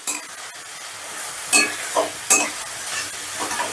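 Washed masoor lentils are stir-fried with spices in a pan, producing a close, soft sizzle with a few sharp scrapes and knocks of the spatula.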